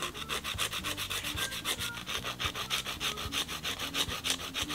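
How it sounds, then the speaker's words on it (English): A nail file scrapes rapidly back and forth across tape fake nails, a close, rhythmic rasping of quick even strokes with no talking. "And then I'm gonna start filing again."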